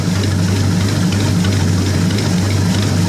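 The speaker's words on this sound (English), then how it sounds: "Flatheads run pretty awesome, eh? That's running about 400 RPMs there now." A flathead engine idles at about 400 RPM, giving a steady, close, low rumbling drone with even pulsing throughout.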